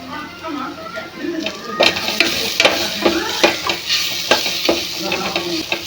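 Ginger garlic paste frying with golden-brown onions in a pan, a close steady sizzle broken by repeated scraping stirs and spoon knocks, with faint talk underneath.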